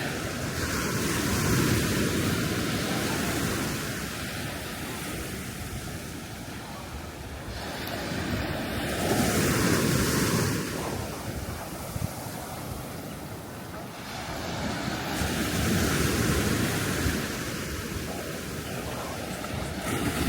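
Surf at Les Salines beach in Martinique, with waves surging and washing ashore in slow recurring swells every few seconds, mixed with strong gusty wind buffeting the microphone, fairly loud and close.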